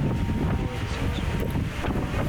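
Breezy sea wind buffeting the microphone on the deck of the cruise ship Oasis of the Seas in the Gulf of Mexico, a steady loud rushing roar with low rumble throughout.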